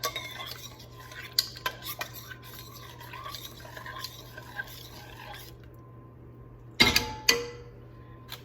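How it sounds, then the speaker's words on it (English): A spoon stirs a sticky cinnamon walnut mixture for roll-ups, soft scraping and tapping against the bowl in a kitchen, ending in a couple of louder clinks of utensil on dish. "let's stir that around"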